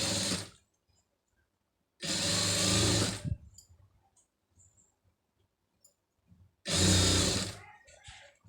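A sewing machine stitches a blouse neck design in two loud bursts of about a second each, separated by quiet handling noises and brief soft talk.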